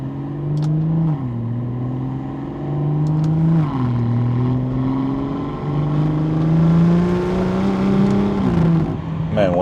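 A BMW with a B58 engine accelerating on a night drive, revs climbing steadily through several gears with brief dips at each shift, close and loud from inside the car.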